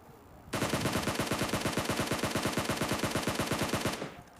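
A sustained burst of rapid automatic gunfire in the mobile game PUBG Mobile, with evenly spaced shots fired for about three and a half seconds, loud and close, then cutting off abruptly.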